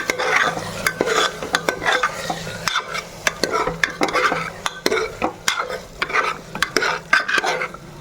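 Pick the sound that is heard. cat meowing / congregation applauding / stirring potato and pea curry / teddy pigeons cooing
stirring potato and pea curry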